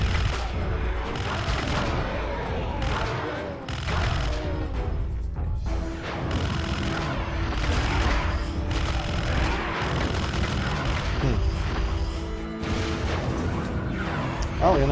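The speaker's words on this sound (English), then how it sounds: "Alright, I have the minigun." In Turok 3: Shadow of Oblivion, a minigun fires in sustained rapid bursts with crashes and booms layered in, loud and continuous over a game soundscape.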